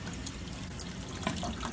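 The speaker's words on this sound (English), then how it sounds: "Here we can see water is going into the tank. This is happening because the fill solenoid was activated at the control panel." Water pours through a fill solenoid into the fat separator tank of a commercial oven, a faint, steady trickle with small splashy flickers and no talking.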